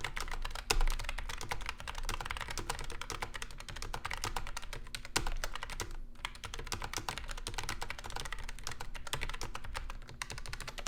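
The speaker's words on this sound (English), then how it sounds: "here's a quick sound test of the Logitech MX Mechanical Mini with brown switches" Steady, busy typing on a Logitech MX Mechanical Mini keyboard fitted with tactile brown switches, a dense run of close, crisp key clacks lasting throughout, with one brief pause midway and no voices.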